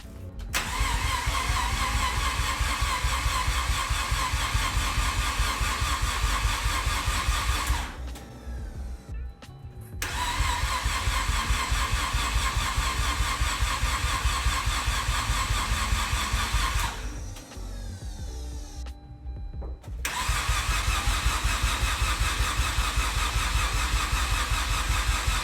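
A Mazda RX8 rotary engine cranks loudly and steadily for long stretches as it tries to start after sitting for a year and a half, with brief pauses between three cranking attempts.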